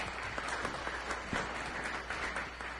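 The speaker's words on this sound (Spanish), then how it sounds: "démosle un aplauso" A seated audience at an evening project presentation event gives a round of applause, soft and somewhat distant, steady dense clapping for a few seconds with no talk over it.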